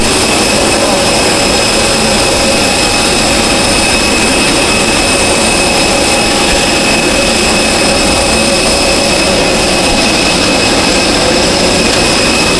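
An airplane's jet engines roar in a loud, constant wash of noise with steady whining tones laid over it, heard up close throughout without any break.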